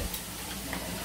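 Liver and onions sizzle and crackle in a pan with a soft, continuous frying hiss, heard briefly and up close.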